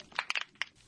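Snapping shrimp recorded underwater: a brief burst of several sharp, crackling clicks in quick irregular succession, fairly faint against a quiet background.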